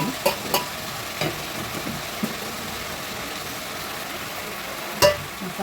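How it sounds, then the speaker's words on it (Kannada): Green masala paste of coriander, mint, cinnamon, cloves and ginger-garlic frying for biryani, a steady soft sizzle with a few sharp spatula scrapes and clinks near the start and end, no talking. "ಮಸಾಲೆ ಹಾಕಿ ಚೆನ್ನಾಗಿ ಫ್ರೈ ಮಾಡ್ತಾಯಿದ್ದೀನಿ."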